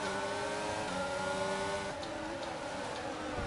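F1 car engine in F1 22 during a race, a continuous high revving whine with shifting pitch, steady and fairly close, a slight change around the two-second mark.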